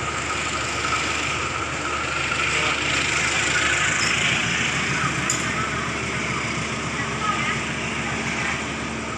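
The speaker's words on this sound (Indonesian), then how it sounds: "pemotongan lokomotif" Train locomotive being uncoupled at a railway station, a steady rumbling engine idle with a broad mechanical hiss held throughout, loud and close, with no distinct clank standing out.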